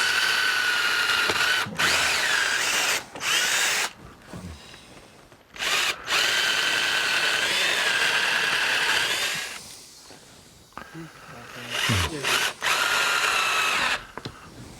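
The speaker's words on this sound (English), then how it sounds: "I still want to put a nice screw in this" A power drill whines loudly in long bursts, stopping and starting several times as it drives a screw into wood, with brief quiet pauses between runs.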